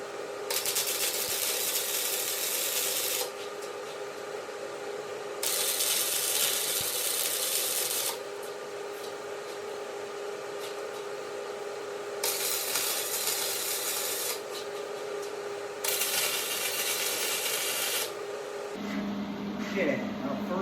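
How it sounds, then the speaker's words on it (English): Bursts of arc welding laying a reinforcement onto the tongue hitch of a Swisher pull-behind mower: four loud, steady crackling runs of about two to three seconds each, separated by quieter pauses, with a brief tone near the end. "I'm going to go ahead and start welding,"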